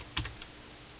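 Short burst of typing on a computer keyboard, a few quick close keystrokes followed by a lone tap, then quiet.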